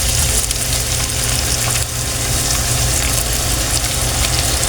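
Vegetables stir-fry in hot oil with oyster sauce for chopsuey with quail eggs, a loud, continuous sizzle and crackle with brief stirring movements and no voice.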